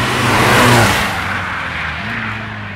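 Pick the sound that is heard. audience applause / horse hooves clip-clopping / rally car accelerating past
rally car accelerating past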